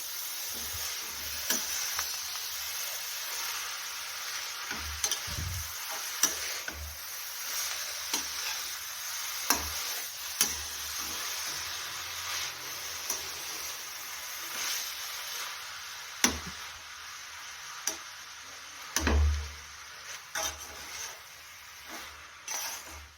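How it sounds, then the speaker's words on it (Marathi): Greens being stirred into sizzling kheema in a pan: a quiet, continuous frying hiss broken by scattered scrapes and clinks of a spoon against the pan, with louder stirring bursts now and then. "सर्व खिमामध्ये आपण भाजी मिक्स करून घेऊया"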